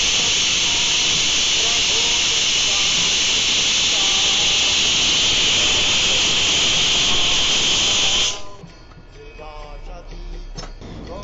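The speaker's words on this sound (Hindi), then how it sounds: "अभी इसे हम 2 सीटी आने तक प्रेशर कुक करेंगे" A pressure cooker cooking khichdi vents a loud, continuous steam hiss for several seconds before it cuts off abruptly, leaving faint kitchen sounds.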